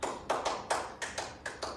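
A teacher claps out the rhythmic 'tepuk semangat' class clapping game in a micro-teaching lesson, about ten crisp, close hand claps in a patterned rhythm with short pauses between groups.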